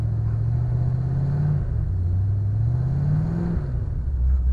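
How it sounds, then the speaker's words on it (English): Car with a 331 stroker engine drifting through snow on a street, its loud, close, steady rumble wavering in pitch as the throttle rises and falls, with no talking. "Drifting all the way down Shaner."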